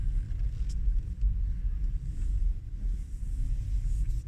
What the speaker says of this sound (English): So I'm just going to move off out of the car park, taking my time